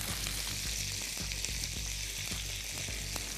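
Sautéing with garam masala in a pan for a kalavanchi koshimbir, a dense, close sizzle broken by a run of quick, irregular spatula scrapes and taps, with no voices.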